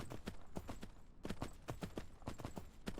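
Horse hooves clip-clop steadily while riding in the video game Myth of Empires, a quick rhythmic gait of close hoofbeats over a low background hum.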